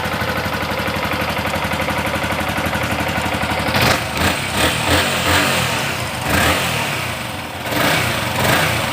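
A motorcycle engine runs steadily up close, then revs in several uneven bursts, its throttle rising and falling loudly.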